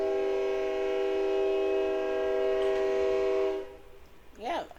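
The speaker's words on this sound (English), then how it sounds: "when I say the train is like right there outside of my window, it is right there outside of my window" A train passes right outside a window, sounding a long, loud, steady horn blast that cuts off abruptly, followed by a brief voice.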